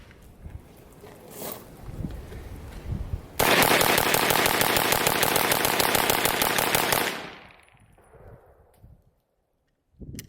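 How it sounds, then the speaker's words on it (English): A Scorpion Evo FDE rifle empties its magazine in one fast, unbroken burst of loud, close shots lasting a few seconds, then stops abruptly. Quieter ambient noise surrounds the burst. "We're going to do a quick mag dump here."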